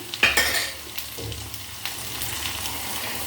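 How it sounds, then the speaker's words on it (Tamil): Taro root frying with turmeric in an iron kadai, a steady close sizzle with scraping stir strokes and a few sharp clanks of the spoon against the pan. "சேப்பக்கிழங்கும் பாருங்கள் வறுபட்டுடுச்சு"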